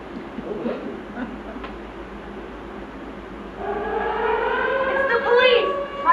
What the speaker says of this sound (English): It's a police car, all right.